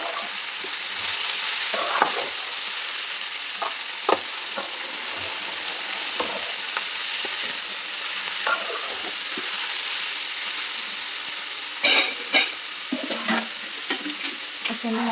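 Spinach and potato curry is stirred in a hot pan, a sizzling hiss underlying scattered scrapes and clinks of the spoon, with a burst of quicker knocks near the end.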